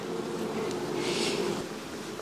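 Honey bees buzz thickly around a beehive right at the microphone, a continuous droning hum with a few louder passes close by and no talking.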